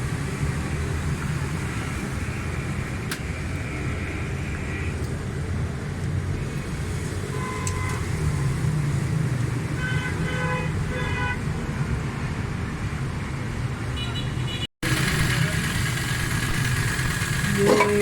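A three-cylinder Suzuki Cultus car engine, one with a missing pick-up and a fuel problem, starts and then runs with a steady, close idle. A brief dropout breaks it near the end, and a few short electronic beeps sound over it.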